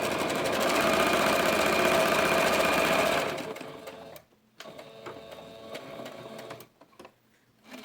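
A sewing machine stitches pinned fabric, running loud and steady at close range for about three seconds, then continuing in quieter short runs broken by brief pauses.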